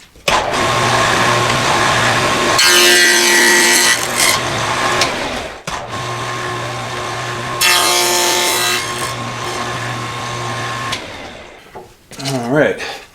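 Power saw cutting box joints in wood with a jig: two long, loud bursts of cutting over a steady motor hum, with a brief pause between them and a faint voice near the end.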